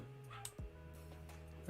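A dog yips and whimpers in short, faint bursts in the background of a quiet room, with a low electronic hum underneath.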